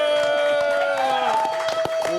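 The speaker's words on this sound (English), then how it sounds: "Give them a big round of applause" A live-performance crowd applauds and cheers for a show. The clapping and whoops sit under a loud, sustained voice and tones that carry through the whole stretch.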